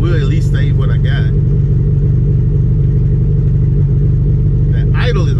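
A Honda Civic EF engine idles steadily, a loud, continuous low rumble that never changes pace, with someone briefly talking over it at the start and again near the end.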